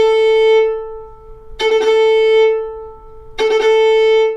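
Fiddle playing the cut technique at a faster tempo. A sustained bowed note is broken twice by quick bursts of ornamented cuts, loud and close, with no voice.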